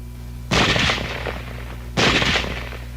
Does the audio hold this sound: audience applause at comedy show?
no